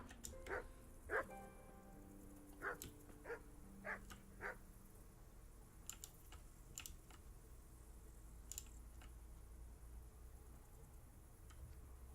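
A dog in the video game Kingdom Come: Deliverance barks in short, sharp bursts, several quick barks in the first few seconds, then sparser ones over quiet background noise with faint clicks.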